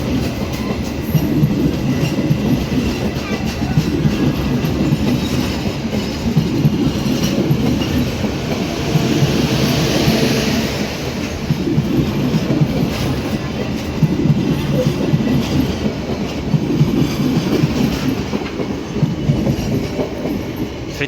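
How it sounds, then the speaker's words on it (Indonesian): A passenger train arriving at Lempuyangan station rolls by close and loud, wheels clattering over rail joints in a steady rhythmic rumble that continues throughout. "Sri Tanjung tiba di stasiun Lempuyangan teman."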